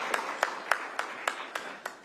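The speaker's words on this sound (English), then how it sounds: "join me in just giving them a brief round of applause" A short burst of applause at a county COVID-19 press briefing, about seven separate claps in an even rhythm, sparse and fairly faint in a quiet room.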